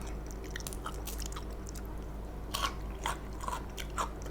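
Someone eats crunchy bitter gourd alongside a fiery dish of shrimp soaked in fermented fish sauce with chilies, giving a few distinct crisp bites and chews close to the mic over a steady background hum, with no talking.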